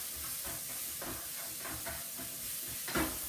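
Vegetables being stirred in a pan with a sprinkle of Scotch all-purpose spices, soft scraping strokes repeating over a low sizzle and hiss, fairly quiet, one brighter clatter near the end, no talking.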